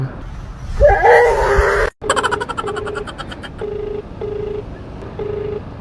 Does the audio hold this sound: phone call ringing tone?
yes